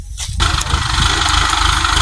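A tractor engine rumbling as it is maneuvered back and forth at a farm loading sugarcane, kicking in after a brief quieter moment and then running loud, close and steady.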